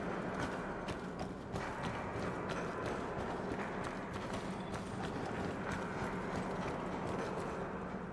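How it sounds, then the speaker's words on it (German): A player walks in the video game Star Citizen, with footsteps in a steady quick rhythm over a dense mechanical background, loud and continuous throughout. "Es ist halt witzig, dass ich immer deine Schritte höre"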